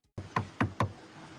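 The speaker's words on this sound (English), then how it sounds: "It shows Elder Young and Elder Wright knocking on the door of a delightful old lady" Three sharp, evenly spaced knocks on the front door of an elderly woman's house, close and distinct, with no talking.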